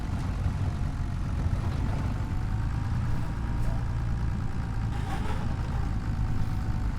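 A Case International tractor engine runs steadily in a farming video game, a constant low rumble held at an even level throughout with no breaks.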